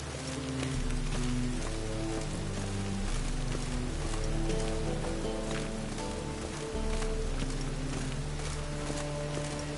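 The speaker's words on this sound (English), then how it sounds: "Raining buckets." Steady rain pours down in The Witcher 3: Wild Hunt, a constant wash of falling water layered under a dense bed of music, with no voices.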